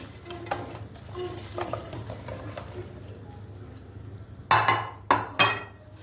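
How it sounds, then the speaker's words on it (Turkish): Pieces of pide bread toasting in butter crackle in a pan, with a few clinks and scrapes of a utensil against the pan, louder clattering strokes toward the end; no speech. "Pidelerimiz tereyağıyla 1-2 dakika bu şekilde hem ısınacak hem kavrulacak."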